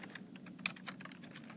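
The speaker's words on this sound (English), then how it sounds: "you can also look at the point by typing in the coordinate" Rapid typing on a computer keyboard while entering a coordinate, a steady run of light, close key clicks with one slightly sharper tap near the middle and no talk.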